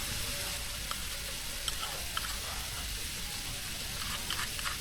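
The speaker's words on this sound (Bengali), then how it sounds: "পেঁয়াজ বাদামি কালার হয়ে গেছে সরিষা বাটা দিয়ে দেবো" Mustard paste hitting browned onions in a hot pan, a loud, constant sizzle close up with faint stirring clicks scattered through it and no voices.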